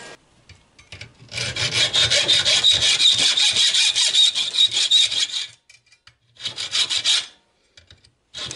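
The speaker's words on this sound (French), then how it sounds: "je lui mets un coup de scie dans le sens de la longueur de ma pièce" A hand saw cuts lengthwise through a small scrap metal piece with a screw tacked onto it, giving rapid rasping back-and-forth strokes in a long close burst, then a pause and a shorter second burst.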